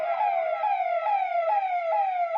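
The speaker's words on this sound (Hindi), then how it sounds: "बड़ी संख्या में पुलिस की गाड़ियां भी सायरन बजाते हुए गाँव की गलियों से गुजरी" Police vehicle sirens wailing in a steady, repeating falling tone as the cars pass through village lanes, loud and close with no other sounds over them.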